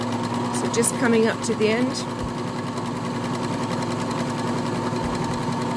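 A serger with a built-in knife stitching a knit neckband, running as a steady, close mechanical whir throughout while someone talks briefly over it.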